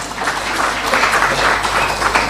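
A dense wash of audience applause fills the whole moment, steady and fairly loud with no voice over it, at a live debate between Javed Akhtar and Mufti Shamail.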